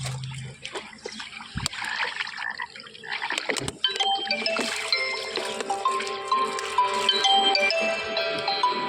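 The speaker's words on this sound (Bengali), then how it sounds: "আমি নিচ্ছি চাকায় জল।" Water poured onto a vehicle wheel in the early morning on a road trip from Kolkata to Bihar, splashing and trickling close by, irregular at first and turning to a steadier spatter, with faint voices and ringing tones behind.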